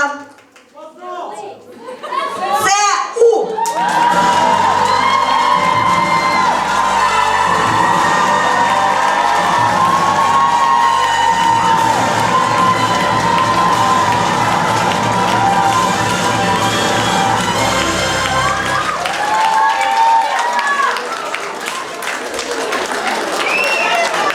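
Loud, sustained applause with cheering and whoops from an audience at an art workshop festival, saluting a choreography team after an announcement. A voice talks over the crowd at the start and end.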